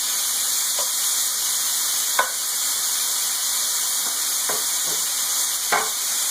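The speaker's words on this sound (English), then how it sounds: "And then I take a regular wooden spoon, stir it around to get it to cook on all sides." Bacon frying in a hot pan gives a steady bright sizzle, with the occasional scrape and clack of a wooden spoon stirring it, close and without talk.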